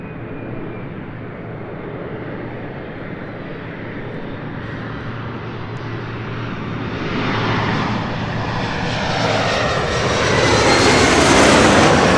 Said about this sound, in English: LAX Flight 11 heading back to Tokyo Narita. It's 777-300ER with Singapore Airlines.